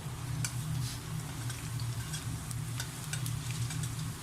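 Green banana slices frying in a shallow layer of hot oil while being stirred, a steady close sizzle with soft scraping and clicks of the spoon against the pan, no talking.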